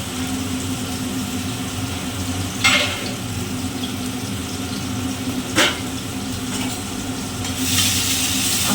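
Ginger is sautéed in oil in a pan for ghugni, giving a steady low sizzle with a few sparse scrapes of a spoon.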